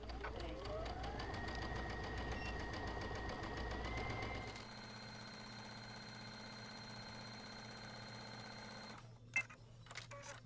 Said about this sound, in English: we're actually going to sew on these lines before we fold it in half